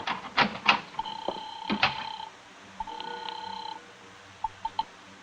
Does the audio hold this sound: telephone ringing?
yes